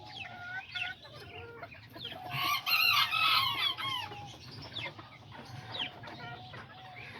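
Azteca roosters and hens cluck and call in a farmyard, a run of close, busy clucks with a louder burst of squawks in the middle, alone without talk.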